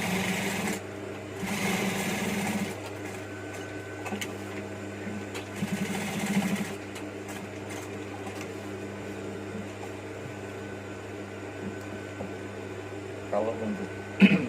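Bursts of sewing machine stitching on a shirt collar: a fast mechanical whir that runs in short spells, stops and starts again, over a steady low hum and light room noise.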